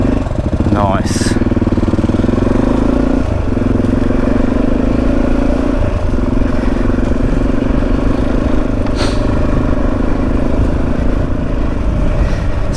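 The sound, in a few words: motorcycle riding along a green lane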